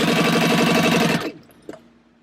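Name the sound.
sewing machine stitching fabric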